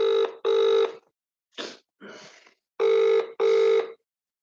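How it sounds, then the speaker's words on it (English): A telephone ringing on an outgoing call: two pairs of bright electronic rings separated by a gap of faint rustling, close and clear, with no one speaking. "ring her on a phone, see if I can get her on it"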